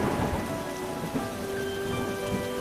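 Rain and thunder effect from a cartoon: steady dense rainfall with low rumbling thunder underneath, continuous and fairly loud throughout, no voices.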